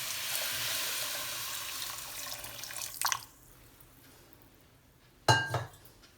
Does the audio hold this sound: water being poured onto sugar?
yes